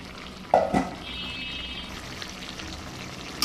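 Fried ginger and cumin tipped back into a hot kadai, a brief clatter of them landing, then a steady close sizzle and crackle of frying that keeps going under faint kitchen noise.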